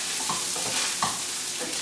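Beans are mashed in a hot pan over a fairly low flame. A soft, steady sizzle runs underneath, with a few repeated scraping, squishing strokes close up.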